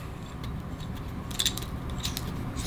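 A pocket-sized tubular key cutter trims a key at a number 6 depth position, giving a faint, steady scraping grind with brief sharper metallic scratches and clicks near the middle and end.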